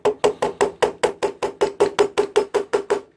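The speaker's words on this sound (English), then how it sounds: "We're going to hammer it in." A drill bit being hammered into a stripped brake cap screw on a GY6 brake assembly, thirteen evenly spaced sharp metallic blows ringing in a steady rhythm, close and loud with no talk.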